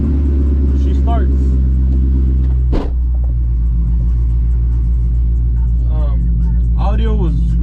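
A Chevrolet C6 Corvette idles with a low rumble, then its engine cranks and fires with a sharp burst before settling back into a deep, steady idle heard from inside the car. A person talks over it now and then.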